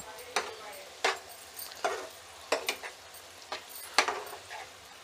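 A spoon scrapes and clacks against a pan in six or seven separate strokes as onion sabji is mixed after coriander is added, close and fairly quiet over a soft background hiss.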